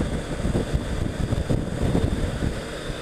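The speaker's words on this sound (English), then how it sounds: "I can feel the wind." Steady wind buffets a moving rider on a morning commute, a broad continuous rushing roar with gusty surges, close and fairly loud, with no speech.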